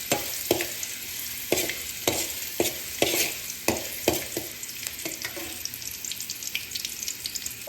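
Ginger sizzles in hot cooking oil for sardines with pechay and sotanghon, a continuous close crackle punctuated by regular sharp spatula strokes and stirs across about eight seconds, no talking.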